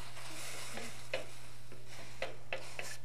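A spoon scrapes and knocks around a pan of cumin seeds and spices toasting in oil, soft steady sizzle under a hum with a few distinct taps spaced irregularly, close and fairly quiet.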